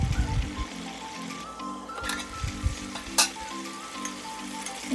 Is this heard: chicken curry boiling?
yes